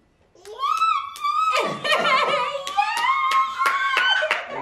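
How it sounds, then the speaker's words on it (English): A small child claps hands in a series of sharp, close, evenly spaced claps, about a dozen in all, while a voice speaks and coos playfully over them with a bit of chuckling. "Clap for Daddy."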